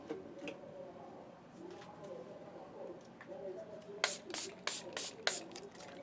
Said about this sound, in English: I'm spraying water